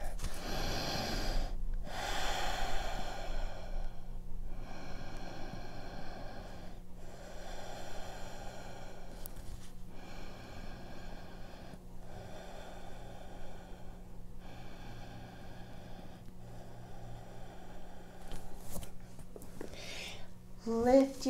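Slow, deep breathing repeats in rhythmic inhales and exhales while a yoga half pigeon pose is held, close and steady over a faint background hum.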